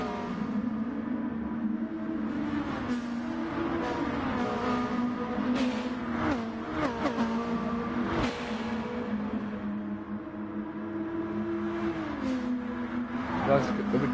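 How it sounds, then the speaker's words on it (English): Race cars in a Gran Turismo Sport online league race: a steady, loud engine drone with shifting pitch as cars chase each other, with a commentator talking over it throughout. "Ricardo is actually closing up to Sonic because of slipstream, and you might see a move from Ricardo real soon."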